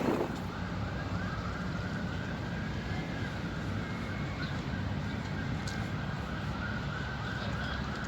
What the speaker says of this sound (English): Yo, so I know you hear the sirens in the background and things like that.